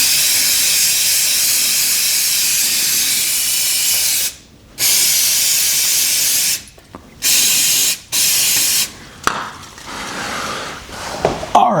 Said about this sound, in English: I'm gonna go ahead and soak this down with some brake clean